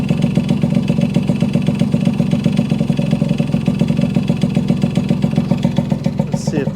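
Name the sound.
1974 Yamaha RD60 motorcycle engine idling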